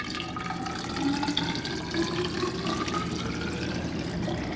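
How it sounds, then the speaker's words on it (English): Water poured into a graduated cylinder or vase for a science demonstration, a steady splashing, trickling fill heard up close, continuous for several seconds with no talk over it. "we're just going to pour some water into our graduated cylinder or vase"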